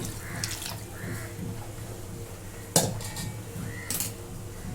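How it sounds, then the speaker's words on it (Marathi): Hot water splashes into a metal pot in short bursts while cooking misal, with clinks and knocks of cookware nearby. "आणि गरम पाणी करून घेतलेलं आहे"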